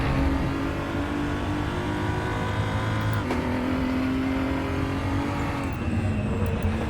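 BMW M235i Racing engine in the RaceRoom racing game, a steady loud engine drone under braking that drops in pitch as the gears shift down, with no talk over it.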